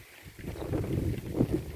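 Wind gusts outdoors among trees and grass, a low rumbling buffeting that swells and fades in uneven surges, close and moderately loud, with no talking.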